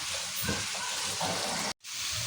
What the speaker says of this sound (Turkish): Kavrulan soğanla sarımsağın üzerine banyaları ekleyip iyice kavuruyorum.